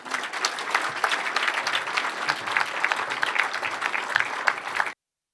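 An audience claps steadily as a speaker takes the stage at a startup cohort showcase, dense continuous applause lasting about five seconds before cutting off abruptly.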